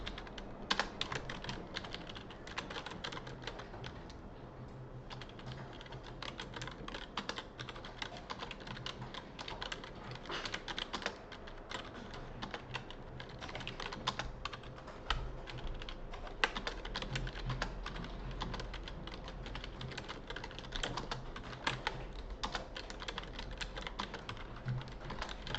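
Steady, fast typing on a computer keyboard while working in a Hangul word processor: continuous close key clicks with brief pauses, with no talking.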